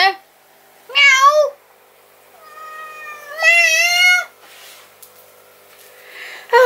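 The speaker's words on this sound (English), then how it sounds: "the cat wants attention now" A cat meows clearly a few times, drawn-out and tonal, close by in an otherwise quiet room, with short gaps between calls.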